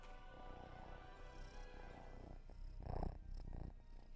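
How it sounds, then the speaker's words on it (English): A young, growing long-tailed cat purrs close by, a low steady rumble under soft handling noises that swell briefly near the end. "You hear him purr."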